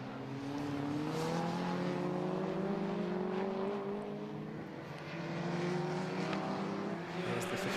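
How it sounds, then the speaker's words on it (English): A 750 Motor Club race car at Croft Circuit drones past with a sustained engine note that shifts in pitch as it approaches and recedes, heard from trackside with steady background noise. "There's the 58 car of Scott then"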